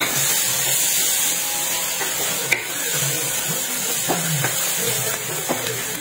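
Onion sautéing in melted butter and oil in a wok, a steady close sizzling hiss that holds evenly throughout with a few faint clicks of utensils, no voices.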